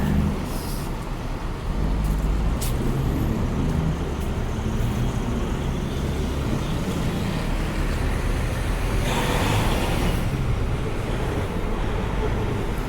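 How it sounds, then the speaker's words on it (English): Heavy truck and car traffic rumbles along a busy downtown Halifax street near a container terminal, a loud continuous roar with passing vehicles and a hiss of air brakes, people talking faintly within it. "Very busy street for trucks because of the container terminal down here"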